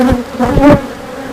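Honeybee colony buzzing steadily during a hive inspection, a dense close hum with a few louder swells as bees move near, no talking.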